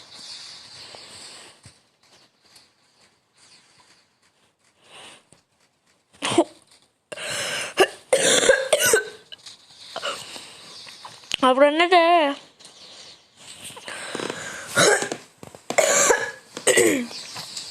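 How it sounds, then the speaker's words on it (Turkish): A player of a Roblox game coughs in several sharp, irregular bursts close to the microphone, with pauses between them and some brief talk mixed in. "Öksürmeyim tuttu."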